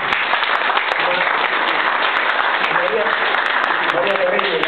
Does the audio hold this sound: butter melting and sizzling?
no